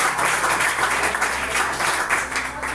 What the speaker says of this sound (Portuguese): Mais palmas bem forte.